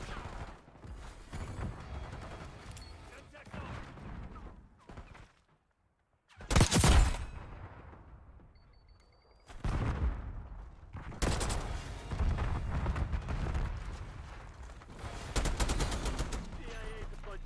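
Gunfire from the Black Ops 6 video game comes in loud, dense bursts separated by quieter stretches and one near-silent gap, with rapid automatic fire layered over background game noise.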